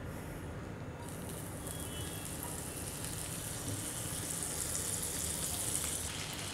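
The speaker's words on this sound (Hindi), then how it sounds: "एक पैन में हम 2 टेबलस्पून के करीब मक्खन डाल देंगे" About two tablespoons of butter melt in a pan on the stove with a steady, close-up sizzle and fizz that starts abruptly and keeps going at an even level, with no talking over it.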